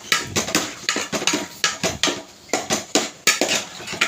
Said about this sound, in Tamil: சுள்ள கறியை போட்டாச்சு நல்லா வதக்கிக்கோங்க